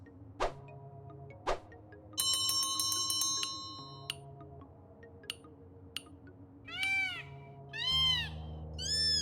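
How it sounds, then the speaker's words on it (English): A thrown pebble strikes a bell in the video game Justin Wack and the Big Time Hack, giving one bright, ringing chime that decays over about a second, amid other chirpy, sweeping game effects and soft background tones. "I'm gonna throw a pebble at that bell and see what happens."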